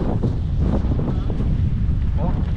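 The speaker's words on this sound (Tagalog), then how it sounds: "Lakas ng hangin oh." Strong wind buffets the microphone on a small fishing boat at sea, giving a loud, constant roar that covers everything, with a voice faintly speaking underneath.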